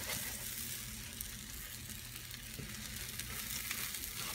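Ginger garlic paste fries with chili powder, coriander powder, cumin powder and masala for a paneer and peas curry, giving a steady, close, bright sizzle that hisses without pause and with no voices over it.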